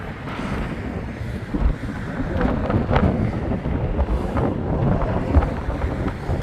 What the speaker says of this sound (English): I mean, it's getting windy.